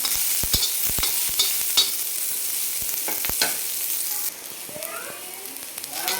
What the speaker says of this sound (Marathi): लोखंडी तव्यामध्ये असा मोठा मोठा कापून आपल्याला कांदा चांगला लालसर भाजून घ्यायचा